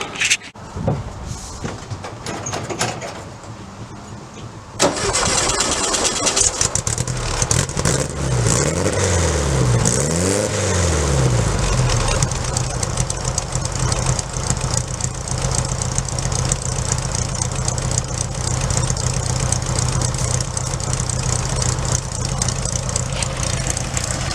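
A beach buggy engine fitted with electronic ignition in place of points starts up and runs steadily, a loud continuous idle with a few revs near the start, close to the listener, with no talking.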